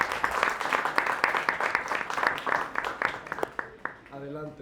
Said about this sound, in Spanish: por favor, chicos, un aplauso